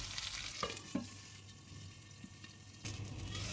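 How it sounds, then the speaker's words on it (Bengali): Potatoes stirred and frying in hot oil in a pan: a steady close sizzle runs throughout, broken by a few sharp clinks and scrapes of a spatula against the pan. "আবার একটু নেড়ে ছেড়ে অপর সাইডগুলো লাল লাল করে ভেজে নেব"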